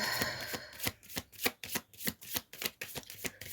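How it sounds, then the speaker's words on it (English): A deck of cards used for a reading is drawn and handled, producing a quick series of sharp, close papery snaps and riffles in an uneven rhythm. "I'm going to draw another few cards from this deck"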